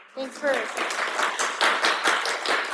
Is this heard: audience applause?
yes